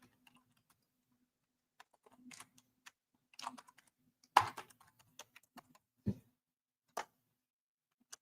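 Sparse computer keyboard typing in a quiet room, short bursts of key clicks with pauses and a couple of louder clacks.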